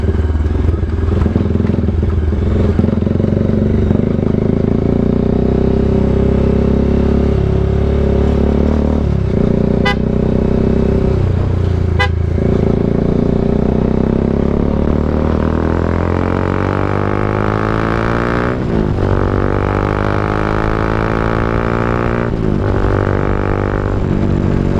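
A Bajaj Dominar 400 motorcycle fitted with an SC Project exhaust rides along, its loud raspy engine rising and falling through repeated revving and gear changes, with occasional sharp crackles and sweeping pitch climbs.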